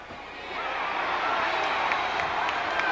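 A wrestling arena crowd cheers and shouts yes in a broad, sustained roar, rising quickly and holding steady, with scattered whoops and clapping mixed in.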